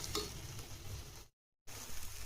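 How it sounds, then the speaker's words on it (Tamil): Chili powder and turmeric sautéing and being stirred in a pan for a tomato kuzhambu, a steady close sizzle with scraping stir sounds, cut by a brief silent gap. "1 ஸ்பூன் மிளகாய் பொடி, கொஞ்சோண்டு மஞ்சள் பொடி போட்டு வதக்கிக்கலாம்."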